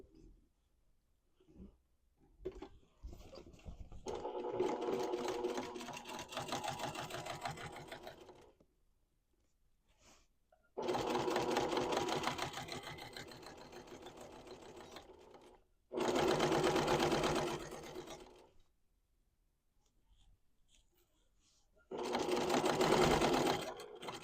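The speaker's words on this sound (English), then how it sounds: "take this over to your sewing machine and we're just going to top stitch right along this bottom edge" Sewing machine topstitching along the folded bottom edge of a knit tote bag at a 1/8 inch seam allowance, running in four separate bursts of steady, fast needle chatter with quiet pauses between them, close and alone.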